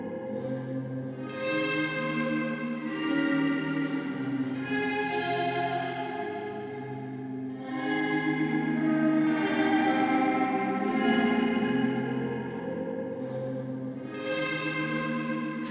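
Sustained electric guitar chords through a Strymon Cloudburst pedal, washed in shimmering, wavering reverb that modulates only the reverb, swelling and fading with a slow modulated sweep, no voices.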